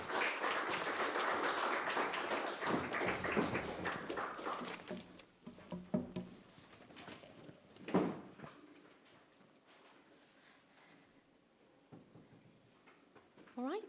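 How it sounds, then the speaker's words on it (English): An audience at a student union hustings applauds three candidates. A few seconds of dense, continuous clapping fade out, and quieter talk and scattered sounds follow. "Everyone give them a round of applause."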